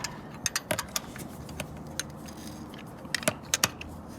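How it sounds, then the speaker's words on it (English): A wrench tightens the welded-nut oil drain plug on a Yamaha Stratoliner motorcycle, giving scattered sharp metallic clicks and ratcheting ticks, close and fairly quiet, in small clusters over a low background hum. "I'm gonna go about a quarter turn with a wrench, because this has actually got a welded nut right on it"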